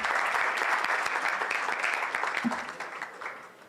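Audience applause at a Kenyan Muslim medical professionals' conference session, a dense steady crowd clapping that stays loud and then slowly thins toward the end.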